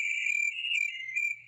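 Cricket chirping sound effect, a steady high trilling that runs continuously and fairly loud on its own with no talking.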